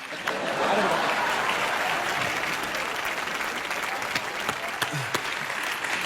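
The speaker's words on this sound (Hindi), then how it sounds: "जोरदार तालियां दोनों के लिए" A studio audience at a comedy show applauds steadily and loudly, a dense sustained clapping that fills the whole stretch with a few sharper claps standing out.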